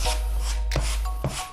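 Excess grout scraped off a limestone surface with a tool, three or four close rasping strokes over a constant low hum.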